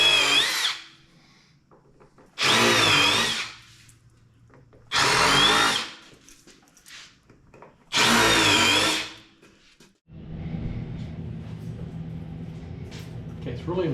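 A power drill driving bolts through a wooden board in four loud, close bursts of whining motor, with talking and workshop shuffling in the quieter gaps between them.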